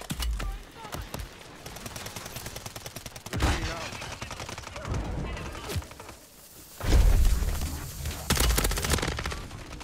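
Gunfire rattles through a Zombie Royale match, with rapid bursts of automatic shots, single cracks and a few heavier thuds spread across the stretch, loud and close in places.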